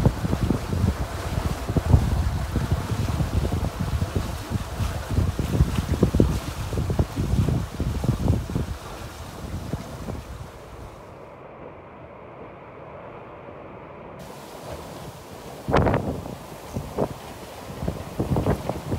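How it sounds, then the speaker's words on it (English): Steady wind roars and buffets the microphone aboard a sailboat heading toward Fort de France, with water rushing along the hull; the gusts ease midway, then return in a brief strong burst. "we got really nice wind after running the point heading towards Fort de France."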